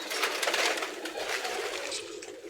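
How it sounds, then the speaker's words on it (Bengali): Pigeons coo softly amid a bright, rustling background hiss, with a few fluttery bursts; no one speaks. "এই যে দেখো এখানে বসে আছে পায়রাটা"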